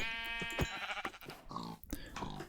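Repeated sheep bleats from the Minecraft video game, a flock calling over one another in short, wavering cries, close and clear with no talk.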